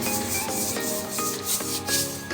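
Water marks are scrubbed off the glass of a 50-gallon aquarium tank, giving a close, continuous rubbing and squeaking with repeated back-and-forth strokes.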